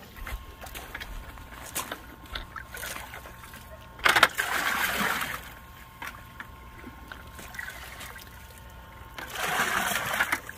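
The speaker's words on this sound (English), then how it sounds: "we're going to fill the extra 2 black tubs in there with water" Water gushes into two spare black plastic tubs at a koi rescue in two louder rushing bursts, between quieter trickles and scattered knocks, with outdoor background noise.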